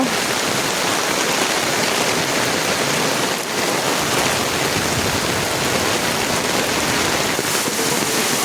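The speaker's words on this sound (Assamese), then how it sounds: "ৰাতিপুৱাৰ লগে লগে যি ধাৰাসাৰ বৰষুণ আৰম্ভ হৈছে" Heavy monsoon rain pours down without a break, a loud, dense and unbroken roar of water beating on surfaces that fills the whole scene.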